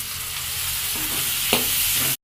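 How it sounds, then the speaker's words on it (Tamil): Steady sizzling of finely chopped tomatoes frying in a pan, with a soft stir partway through; continuous hiss, close and fairly loud, no talking. "ரெண்டு தக்காளி நார்மல் சைஸ் தக்காளி பொடியாக நறுக்கி வறுத்துக்கலாம்"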